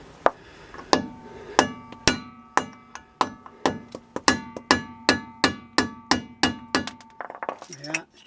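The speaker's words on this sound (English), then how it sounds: "just get your hammer and your chisel" A hammer strikes a small chisel against a Mercedes 410D propshaft part, about fifteen sharp metallic clinks in a steady, fairly quick rhythm, close and loud, with a faint ringing tone between blows.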